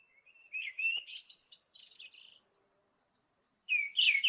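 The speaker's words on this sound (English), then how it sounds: "This is a blackbird." A blackbird sings clear, fluting phrases with chirpy twitters, pausing in near silence before another bright phrase starts, close and alone.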